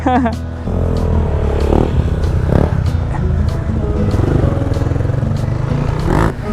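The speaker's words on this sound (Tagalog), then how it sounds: "11 na motor pala tayo ngayon." A group of eleven motorcycles rides together on a road in Pangasinan, engines droning and revving loudly up close with clattering and scraping noises mixed in.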